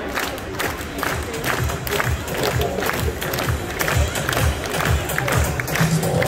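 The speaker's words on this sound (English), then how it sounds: "What I need everyone to do is everybody clap. Everybody clap." Street performance crowd on the Gold Coast at Surfers Paradise clapping in a steady rhythmic beat with cheering and shouts mixed in, loud and continuous throughout.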